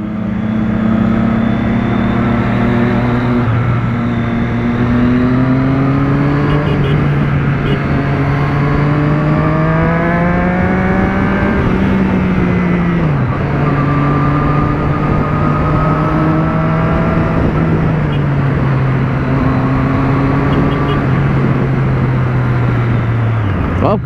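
Steady, loud drone of a Triumph Street Triple 675R motorcycle engine crawling through dense city traffic in Florianópolis, its pitch swelling and dipping with repeated throttle blips and a sharp drop near the middle, with no voices.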